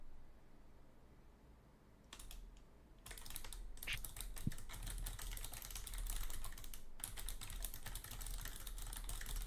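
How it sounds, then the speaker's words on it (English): Rapid, continuous keyboard typing, close and busy, with dense clacking keystrokes starting quietly and becoming steady and intense after a couple of seconds. "Intense typing."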